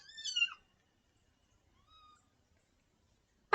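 An orphaned kitten gives one short, high meow near the start, followed by near silence, a faint brief sound, and an abrupt noise at the very end.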